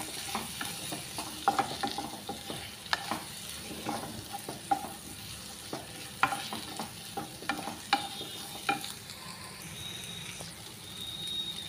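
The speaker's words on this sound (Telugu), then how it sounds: "అంతా మంచిగా వేయించుకోవాలి" Gobi (cauliflower) curry frying and being stirred in a pan, a steady soft sizzle with scattered clinks and scrapes of the spoon throughout.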